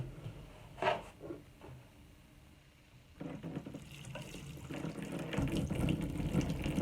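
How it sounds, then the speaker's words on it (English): Water runs from a tap or watering can onto seedlings being started for a spring garden, beginning after a few faint knocks and growing into a steady, fairly quiet gush with no talking. "and I'm gonna water it."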